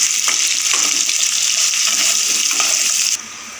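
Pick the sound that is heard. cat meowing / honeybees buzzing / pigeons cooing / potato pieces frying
potato pieces frying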